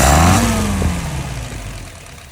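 A car engine settles into a steady idle after being adjusted, running around 700 rpm; the low, even rumble starts fairly loud with a brief rev at the start and fades slightly toward the end, with no talking.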